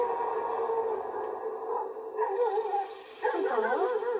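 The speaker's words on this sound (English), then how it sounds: "That's a dog." A dog yipping and whimpering in short bursts, fairly faint and thin, rising into a more excited run of high yelps near the end, with no talking over it.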